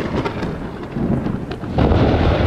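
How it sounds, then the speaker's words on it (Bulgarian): A Fortnite thunderstorm rumbles in low rolling bursts over a constant hiss of rain, swelling louder toward the end, with no voices. "Гръмотевична буря!"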